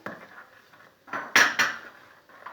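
A utensil stirs a dough mixture with mineral water in a bowl: soft scraping, then a few louder clinks and clatters against the bowl, close by.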